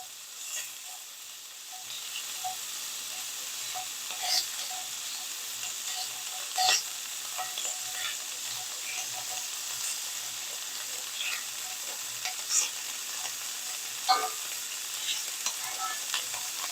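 Blackened salmon fillets frying in a hot pan, a steady close sizzle with occasional sharper pops and brief scrapes as the fish is turned, no talking.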